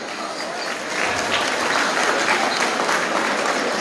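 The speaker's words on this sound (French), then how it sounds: "Applaudissez-vous." A crowd at an outdoor memorial gathering in Sarcelles breaks into sustained applause, dense clapping that builds after the first second and holds steady and fairly close.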